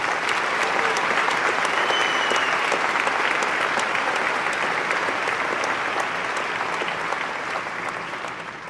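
A large commencement audience at East Stroudsburg University applauds loudly and continuously, a dense roar of clapping that fades slightly toward the end.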